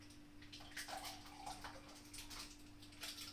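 Cooking liquid from jerk chicken being poured from one kitchen container into another, heard as faint, uneven splashing and trickling bursts over a low steady hum, quiet and close.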